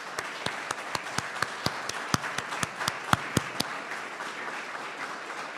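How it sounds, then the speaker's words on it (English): Sparse, evenly paced claps ring out from a small audience at a completion ceremony, each sharp clap distinct and fairly close, continuing steadily for several seconds before thinning out. "We would like you to stand and everyone to give them an applause."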